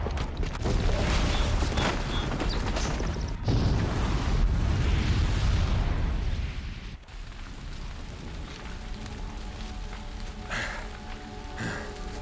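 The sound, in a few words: bomb explosion in the video game Horizon Zero Dawn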